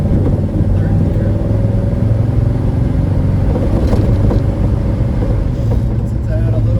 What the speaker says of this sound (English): Doesn't go so good when you try and take off in third gear.